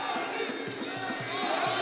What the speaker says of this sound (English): You can hear the absolute roars of the crowd resounding through the stadium here.